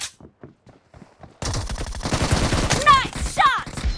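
Rapid automatic gunfire in the PUBG Mobile video game, a loud dense burst of shots that starts abruptly after a quieter stretch of faint taps and continues to the end, with shouting voices briefly heard over it.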